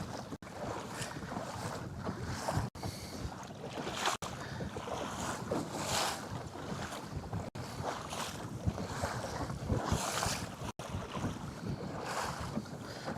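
Wind and choppy waves buffet a fishing kayak on open water, a constant rushing blow over the microphone mixed with splashing surges and a few sharp knocks, no talking.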